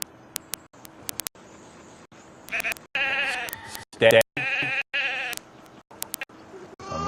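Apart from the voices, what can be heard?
sheep bleating in virtual sheep herding video game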